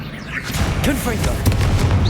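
Confringo fire spell blasts in Hogwarts Legacy, loud booming bursts with crackling pops over a dense, rumbling game soundscape, with a few pitched swooshing effects threaded through.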